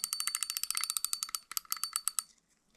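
An older, smaller 2005-size Shimano fishing reel's clicker ratchet rattles in a rapid run of sharp, bright metallic clicks that tick evenly for about two seconds, then slow and fade, close and alone.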